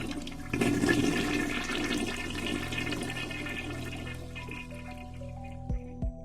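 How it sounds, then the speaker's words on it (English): Running shower water in the Steins;Gate visual novel, a steady broadband rush of spray that swells after a half second and continues evenly, with faint background music tones and a couple of soft knocks near the end. "I jump at the sound of a running shower."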